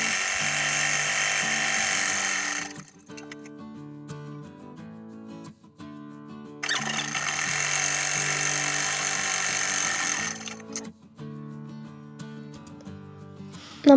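Sewing machine stitching two fabric pieces of a baby frock together, running in two long steady whirring bursts of rapid needle motion with quieter pauses and mechanical clicks between them.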